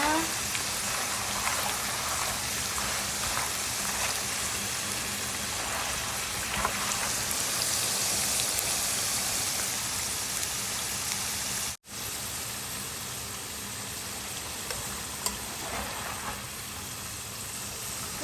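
French fries deep frying in oil give a dense, steady crackling sizzle close by, like rain on a surface, broken by a sudden cut partway through before the bubbling resumes more quietly.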